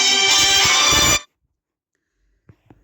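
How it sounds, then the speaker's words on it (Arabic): A phone ringtone sounds in a kitchen: a loud, bright melodic ring that plays for about a second and cuts off abruptly, followed by near silence and a couple of faint knocks. "التليفون بيرن"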